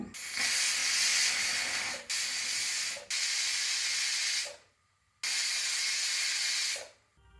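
A loud, steady steam hiss from a pressure cooker whistle cooking red lentils blasts in long bursts, briefly cutting out and resuming, close and continuous like a pressure release.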